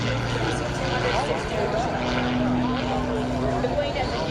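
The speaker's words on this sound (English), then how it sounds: "Hence, he's flying today the S2B model." A certified 1984 Pitts S2B aerobatic biplane at an air show, its propeller engine droning loud and steady with a slight shift in pitch as it flies, over a constant wash of crowd and wind noise.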